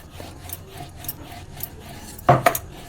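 Pithe dough for fried Bengali pitha rolled out with a rolling pin, soft repeated rubbing strokes in a steady rhythm, close and quiet, with one sharper clatter near the end.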